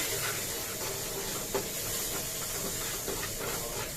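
Food lightly frying with spices in a home kitchen pan gives a steady, even hiss with a couple of faint clicks, close and continuous, with no talking.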